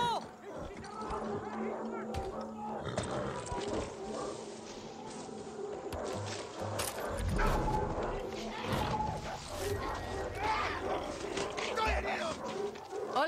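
Dogs bark and yip repeatedly in Far Cry 6 amid a busy game soundscape, the barks mixed under talking voices and other background noise throughout.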